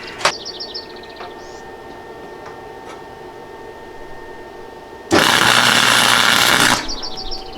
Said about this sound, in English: Now I need to finish welding it.